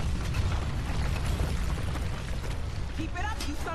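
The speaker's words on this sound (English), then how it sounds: "the whole place can fall apart at any minute, at any time with all these explosions." Booming explosions and crumbling debris in the video game Tomb Raider (2013), dense and loud throughout, with rumbling low blasts and scattered bursts layered over game sound.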